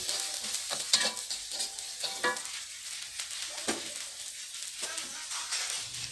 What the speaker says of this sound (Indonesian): Kita ikut tumis dulu sampai harum.